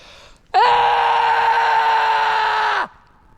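A person lets out a single loud, sustained scream of frustration lasting about two seconds, raw and strained, standing alone after a quiet pause.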